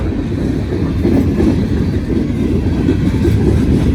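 Freight train of boxcars rolling past up close, a loud, continuous rumble of wheels and rattling cars with no let-up.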